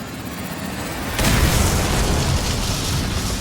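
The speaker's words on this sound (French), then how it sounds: "Explosion." A video game explosion in Dishonored bursts in about a second in, then leaves a loud, sustained roaring rumble that fills the rest of the moment without any voices.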